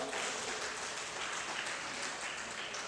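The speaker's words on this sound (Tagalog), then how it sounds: "Isa nga pong masayang palakpak para sa ating Panginoon." A church congregation claps in a dense, steady round of applause, moderately loud and continuous for a few seconds with no break.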